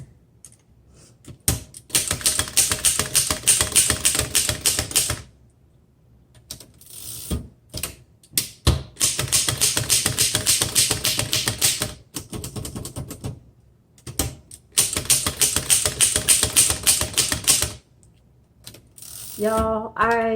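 A 1913 Royal 5 antique typewriter with glass keys is typed on in fast, dense bursts of clacking keystrokes, close and loud, with short pauses between runs. The carriage is returned with a ratchety zip near the end.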